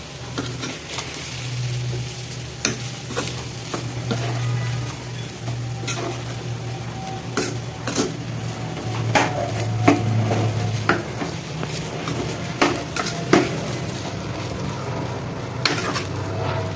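Rice and onion masala stirred in a pan, a spoon scraping and clinking in irregular strokes over a steady low sizzle, close and moderately loud, with no talking.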